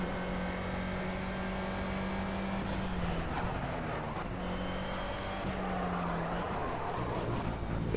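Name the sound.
race car drifting in the Project CARS video game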